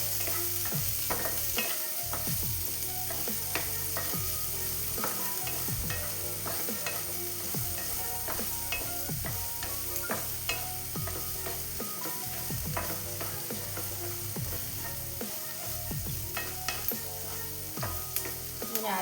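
Strained onions sauté in a pan for a Kannur-style ulli theeyal, a constant sizzle punctuated by frequent rhythmic scraping strokes of a spoon against the pan.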